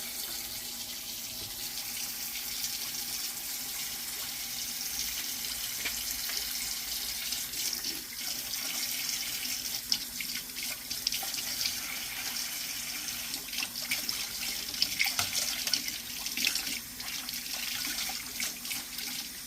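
Tap water runs steadily into a sink while surgical instruments such as a Yankauer suction tip are rinsed during decontamination, a continuous close hiss and splash with no speech.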